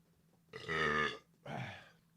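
A long, loud voiced burp followed by a second shorter burp after a brief pause, close to the mic with no talking.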